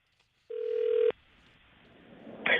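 A single steady tone from a telephone call waiting to be picked up, lasting about half a second and then cut off, followed by quiet line noise and the start of another tone. No one speaks.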